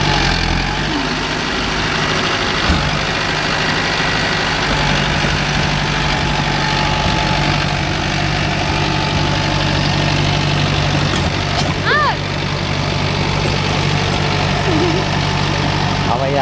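A Mahindra Arjun Novo 605 DI tractor engine runs steadily with a low, even drone while working a rotavator in a field, a constant loud rumble with background voices over it.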